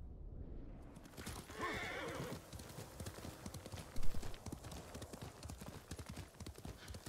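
A horse gallops in Ghost of Tsushima Director's Cut, fast rhythmic hoofbeats pounding close and loud with a whinny near the start and wind rushing past, with no talk.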